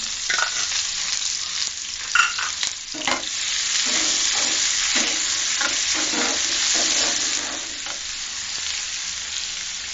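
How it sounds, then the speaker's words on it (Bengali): Sliced onions fry in a pan for a tomato egg dish, giving a steady bright sizzle with repeated spatula scrapes and stirring knocks, close up with no one talking. "আমি পেঁয়াজটাকে প্রথমে ভেজে নিচ্ছি।"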